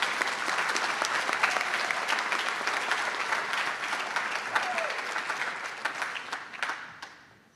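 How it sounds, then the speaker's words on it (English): An audience applauds at a National Honor Society induction ceremony, dense sustained clapping from a large crowd in a hall that fades out at the end. "Give them a round of applause."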